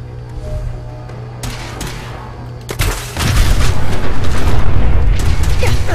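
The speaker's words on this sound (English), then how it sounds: "That was a direct, pure headshot with a fucking nuke." A mini-nuke blast in Fallout 4 gameplay: a loud, sustained explosive roar swells in after about three seconds over earlier rumbling game sounds, with scattered sharp bangs before it.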